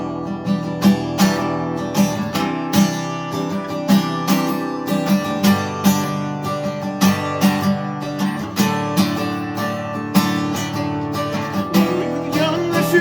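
Steady strummed acoustic guitar plays an arrangement of a song in a rhythmic, driving pattern with regular accented strums, close and fairly loud, with no voices.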